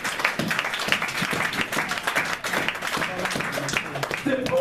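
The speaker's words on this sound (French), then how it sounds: "Est-ce qu'on peut acclamer pour la résurrection?" A church congregation applauds and cheers after a call to celebrate the resurrection, a loud, continuous wash of clapping with voices mixed in throughout.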